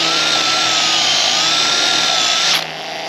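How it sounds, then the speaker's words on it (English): A high, steady whirring buzz from a power drill driving a duck-plucking attachment stripping feathers from a mallard, running continuously for a few seconds up close before cutting off abruptly near the end. "is a automatic duck plucking machine. Just attaches to a normal hand drill."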